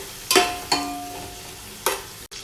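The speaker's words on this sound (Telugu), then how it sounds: "ఆనియన్ అన్నీ కూడా బాగా గోల్డ్ కలర్ వచ్చేంత వరకు ఫ్రై చేసుకోవాలండి." Onions being fried in a pan for chicken pulao, a steady close sizzle broken by three sharp scraping stirs of a spatula against the pan.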